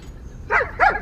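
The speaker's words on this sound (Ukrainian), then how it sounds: "Це собака, собака БМіксер" A dog gives two short, close barks with a whimpering, yelping edge, spaced about a third of a second apart over a low background hum.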